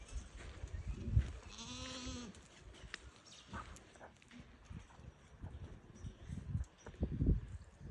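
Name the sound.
goat for sale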